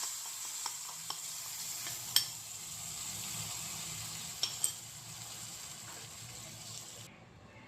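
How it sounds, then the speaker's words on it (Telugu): Cooked lentil dal being stirred into hot tempering for a amaranth-leaf dal, with a soft steady sizzle and wet stirring, a few faint spoon clinks, no talking. "స్టవ్ బంద్ చేసేసి పప్పు వేసేసుకోవాలి"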